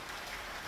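Rain falls outside in Rio Grande do Sul, Brazil, a soft, steady, faint patter lasting under a second with no voices.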